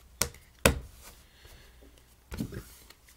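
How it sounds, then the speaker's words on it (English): Deck of playing cards cut by hand, a few soft taps and knocks of the packets, close and quiet, spaced out with short pauses. "We'll give these a few cuts."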